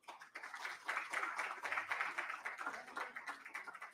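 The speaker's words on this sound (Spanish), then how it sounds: "Fuerte el aplauso para Prepa 1, por favor." Faint crowd applause at a university conference in Hidalgo, Mexico, a steady patter of many hands clapping at a distance for a few seconds.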